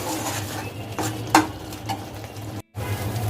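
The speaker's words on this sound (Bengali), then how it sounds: "দিয়ে মশলাটা আরো ভালোভাবে কষিয়ে নিতে হবে যতক্ষণ তেল না ওঠে" Spice paste with green chilli and a spoon of sugar being stir-fried in oil, with scraping strokes and pan clatter over a soft sizzle, one sharper knock near the middle and a short dropout before the stirring resumes.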